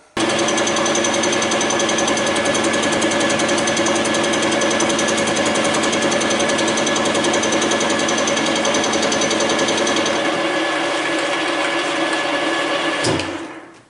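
A metal cutter machines a nut into a crown on a lathe, a harsh, steady rattling chatter that runs loud and continuous for about thirteen seconds, then stops with a brief clunk.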